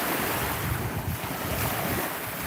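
Sea waves and gusting wind on Maryport Promenade, a loud, steady roar of surf with wind buffeting the microphone throughout and no voices.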